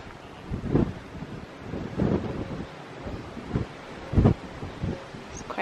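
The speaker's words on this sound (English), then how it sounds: "It's quite breezy out here today." Wind gusts buffet outdoors on a walk among old Cornish mine engine houses near Redruth, loud rumbling bursts hitting the microphone in uneven waves.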